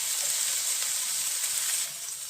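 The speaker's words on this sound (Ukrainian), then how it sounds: "Хай смажаться грибочки наші. Добавимо помідорчик" Mushrooms and tomato sizzle steadily in a frying pan, a loud, continuous hiss of oil with faint stirring underneath and no speech.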